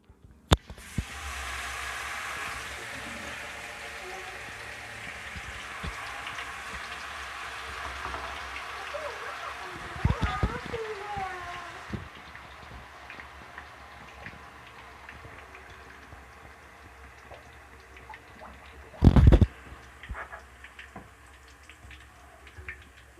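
Motichoor ladoo batter frying in a kadai of hot oil, a loud, steady sizzling hiss that gradually thins and fades, with a sharp clatter near the end.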